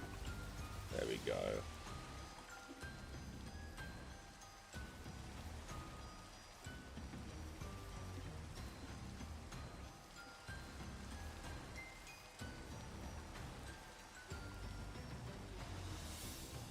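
Steady rain falling in the video game Minecraft, a continuous soft hiss of drops that stays even throughout, fairly quiet, with a voice speaking faintly at times over it.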